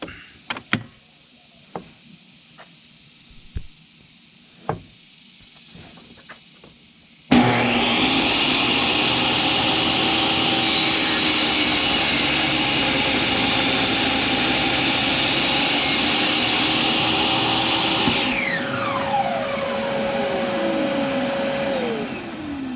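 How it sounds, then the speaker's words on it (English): Table saw trimming a thin strip off the edge of a glued-up wooden board: quiet shop clicks, then the saw bursts in loud and steady, whining as the cut runs, and finally spinning down alone. "you got to set your table saw so you just trim the edge off of that"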